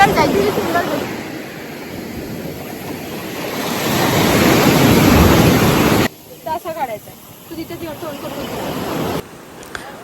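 Surf and wind roar steadily at Bhogwe beach on the Konkan coast, with loud wind buffeting the microphone. The sound cuts to quieter wave wash, and voices talk briefly over it.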